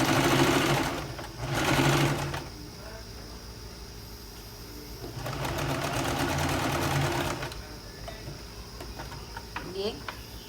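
A sewing machine stitches a shirt piece along its edge in two loud bursts of rapid, rattling needle motion, with quieter handling sounds and speech-like noise in the gaps between runs.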